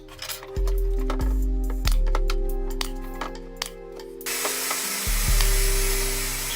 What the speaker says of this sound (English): this piece of material I'm cutting now